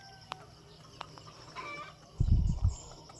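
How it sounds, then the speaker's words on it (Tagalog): A pet chicken outdoors on a cold, foggy morning gives soft, scattered clucks, with a brief low thumping burst near the end. The background is quiet and no one talks. "yung aking manok, humihingi din ng pagkain"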